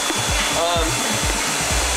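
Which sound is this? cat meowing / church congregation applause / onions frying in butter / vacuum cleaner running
vacuum cleaner running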